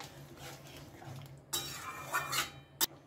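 Cashew and peanut paste stirred into a lentil curry with dhoka dumplings, heard as soft scraping and light clinks of a spoon against the pot, with a louder clink near the end.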